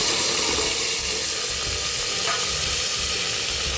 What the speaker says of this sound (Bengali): দিয়ে নাড়াচাড়া করবো ভালো করে, মশলাটা ভালো করে কষিয়ে নেব।